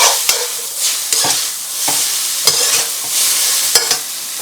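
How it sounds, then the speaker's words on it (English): Scallions are tossed into chicken chow mein in a hot pan, a loud bright hiss of frying with repeated whooshing swells and sharp clacks as the noodles are flipped and stirred. "scallions, spring onions, whatever you want to call them, they're going in. Give them a toss through."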